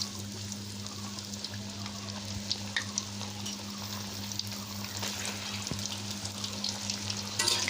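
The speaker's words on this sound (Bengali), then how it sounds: "একদিন রোদে শুকানোর পরে আমগুলো এভাবে ঠিক তেলে ভেজে নিব।" Sun-dried raw mango pieces fry in hot oil for mango pickle, a steady close sizzle and bubbling with occasional stirring, no voices.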